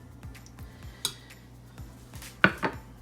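Cooked, drained spaghetti being stirred with butter in a pot: soft scraping and utensil clinks against the pot, with a couple of sharper metallic knocks, close and fairly quiet.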